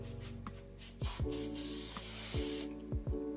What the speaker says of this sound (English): So something else I'm going to do to make all these couplers stay in place is use some hairspray.